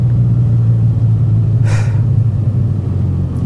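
A Can-Am Spyder F3 three-wheeled motorcycle on the road, giving a continuous low rumble with a brief hissing whoosh partway through.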